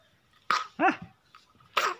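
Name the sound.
child coughing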